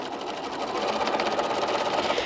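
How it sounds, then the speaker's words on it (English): A sewing machine runs steadily at close range, back stitching along a bag lining seam, a fast continuous mechanical whirr with a rapid needle patter and no talking. "we're going to back stitch a little bit"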